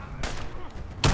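A .50 caliber hunting rifle fires in a shooting game, two loud heavy reports about a second apart, the second sharper and closer.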